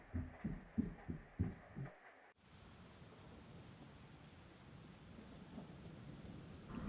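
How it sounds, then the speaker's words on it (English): Steady rain falling outside at night in the video game Persona 4 Golden, a soft even hiss that follows a few low rhythmic thumps and a sudden cut. "You can hear it raining outside."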